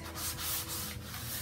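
Steady hand sanding of a wet piece, a continuous scratchy rubbing with rhythmic strokes, close and moderately loud with no talking.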